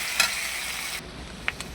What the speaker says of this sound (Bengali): একটু ভাজা ভাজা করে নিয়ে তারপরে